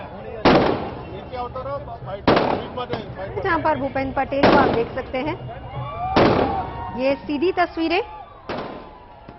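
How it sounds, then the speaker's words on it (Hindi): About five loud fireworks bang at a 2022 BJP Gujarat election victory celebration, sharp blasts spaced a couple of seconds apart with crackling tails, under continuous Hindi news commentary. "आतिशबाजी के साथ वहां भी जश्न मनाया जा रहा है।"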